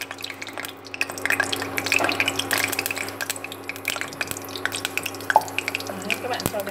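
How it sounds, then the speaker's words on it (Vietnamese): Chicken pieces fry in a pot of hot oil, a steady close crackle and sizzle with scattered pops, no voice over it. "Mình cho vào để chiên thôi."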